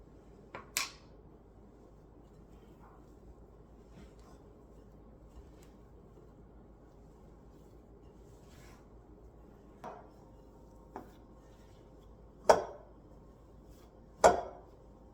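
Dog biscuit dough is mixed by hand in a bowl. Sparse, brief scraping and knocking sounds land now and then against quiet, growing sharper and closer toward the end.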